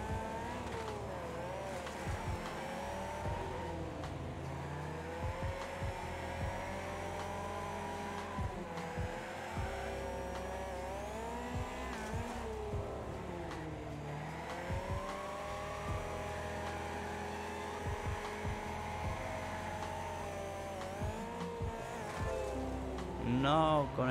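Car engines race in the Wreckfest video game, several engines whining and revving with shifting pitch over the whole stretch, joined by tire squeals and louder bursts near the end, with someone talking over them.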